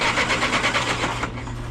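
The engine of a Willys CJ3B flatfender Jeep cranks over on its starter in a fast, even, whirring churn that runs for about a second and a half, then cuts off.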